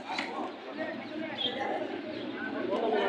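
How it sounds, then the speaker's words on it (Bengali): Pigeons coo and murmur at a bustling pigeon market in Hasnabad, Bangladesh, soft nearby calls mixed with chirps amid crowd chatter and voices. "দেখি ভাই কবুতরটা"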